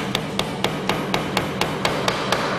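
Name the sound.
hammering nails into wood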